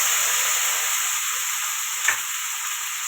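Curry leaves, onion and coriander frying in a pan for spicy misal, a steady close sizzle with bright hissing throughout and one brief stir or clink near the end, no voices.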